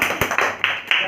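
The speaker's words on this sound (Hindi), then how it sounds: "ताली बजा दीजिए भाई।" Children clapping their hands, four or five quick, sharp claps in a short uneven burst, close and fairly loud.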